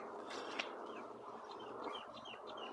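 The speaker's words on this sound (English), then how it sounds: "Yes, rosellas. Here in Australia, they look like parrots, but they're a smaller version, and they're called rosellas" A crimson rosella, a small Australian parrot, gives a few faint, thin chirps at a distance over a quiet outdoor hum.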